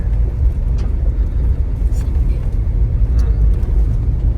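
A BAW 212 car on a family road trip, heard from inside as a loud, steady low road and engine rumble with faint higher rattles, continuous throughout.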